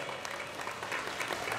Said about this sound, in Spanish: El aplauso para Juan, por favor,